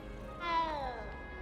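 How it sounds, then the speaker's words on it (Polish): A single short cat meow in the video game Hogwarts Legacy, a rising-falling tonal cry in the middle, fairly faint over soft game ambience. "o kot"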